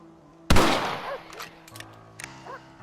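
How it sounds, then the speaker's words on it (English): A single rifle shot cracks loudly in the Red Dead Redemption Western game, with a short echoing tail and some quieter clicks and movement sounds afterward. "Your back's tense and it's making the rifle jump."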